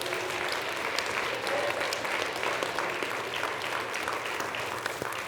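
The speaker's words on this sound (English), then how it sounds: "Let's give Jeff and his team a big round of applause." Audience applause fills a venue at an evening winter speaker event, a steady, dense wash of clapping that holds loud and even from start to finish with no voices breaking through.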